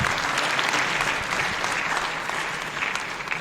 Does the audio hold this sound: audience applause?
yes